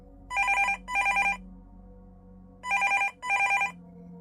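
A mobile phone ringing in a horror story sound effect: two pairs of bright electronic ring bursts, clear and close, with a pause between the pairs over a low steady hum.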